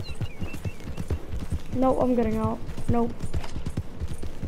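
Horse hooves clopping in the Red Dead Redemption video game, rhythmic rapid hoofbeats running throughout, with a whinny partway through and someone talking over them.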